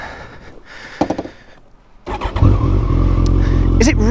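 A Kawasaki ZZR1400 (ZX-14R) sport motorcycle starts and its engine rises into a loud, steady rev, with someone talking over the start and a rumbling idle running underneath.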